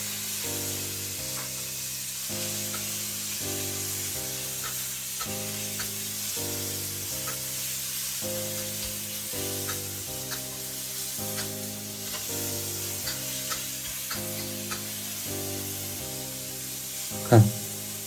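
Pork sizzles in a hot wok with oil and a pinch of salt as it is stir-fried for green chili pork, a steady, moderately loud hiss running under rhythmic background music.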